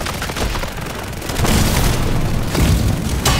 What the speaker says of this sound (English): I'm about to put an airstrike out